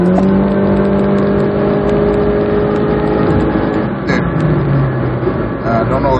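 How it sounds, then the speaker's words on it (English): A 2015 Honda Fit LX with a CVT accelerates from 60 to 80 mph, a loud, steady engine drone with a smoothly shifting pitch over road and wind roar inside the cabin, sustained throughout. "this is acceleration test from 60 miles per hour to 80 miles per hour"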